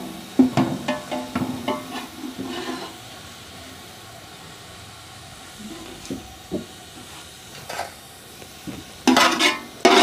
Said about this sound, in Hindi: सबसे पहले प्याज फ्राई कर लेते हैं।